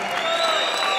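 Arena crowd at an ACB 37 MMA event cheering and applauding the two fighters after their bout, a dense steady roar with a sustained tone running through it.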